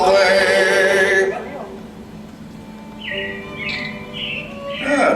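Robins chirp and trill in short whistled bursts at Disney's Carousel of Progress, following a loud stretch of sung music and recurring through a quieter room.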